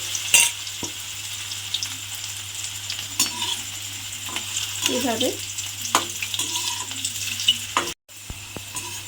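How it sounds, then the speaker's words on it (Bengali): Potato peels fry in hot oil over high-to-medium gas, a steady bright sizzle with occasional stirring clinks and a short spoken word partway through. "এইবার এই তেলের মধ্যে এই আলুর খোসাগুলো নেব, নিয়ে এই তেলের মধ্যে দিয়ে দেব।"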